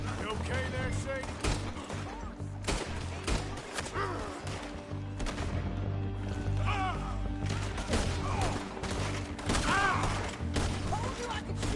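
Gunfire in the Red Dead Redemption 2 video game, a sustained burst of shots and impacts under a dense score, with voices talking over it throughout.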